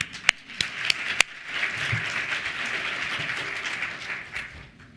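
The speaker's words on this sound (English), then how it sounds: "So first, a round of applause to you." Audience applause at a securities industry forum, a few loud, separate claps opening before the crowd joins in a steady, moderate clapping that fades slightly toward the end.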